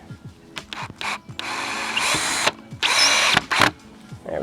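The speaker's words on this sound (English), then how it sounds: "Go ahead and just pre-drill a little bit" A power drill pre-drills into a wooden board for a raised garden bed, giving several short whirring bursts close by, with longer high-pitched drilling runs in the middle and a few brief start-stop spins around them.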